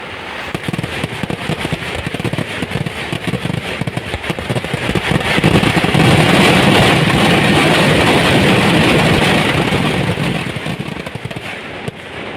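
Temple festival fireworks crackle and bang in rapid, dense bursts, building to a sustained roaring barrage of explosions before thinning out again, loud and continuous.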